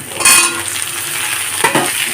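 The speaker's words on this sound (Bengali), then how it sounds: "আলুগুলোকেও লাল করে ভেজে নেবে" Potato pieces and pointed gourd fry in hot oil in a pan, a close, loud steady sizzle with a few brief stirring scrapes and no voices.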